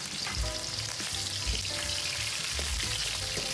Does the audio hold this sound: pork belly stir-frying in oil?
yes